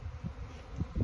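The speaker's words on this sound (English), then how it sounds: "Ooh, too many bees." Bees swarming around a beehive during beekeeping, a low droning buzz that swells in short pulses, close and fairly loud with no talk.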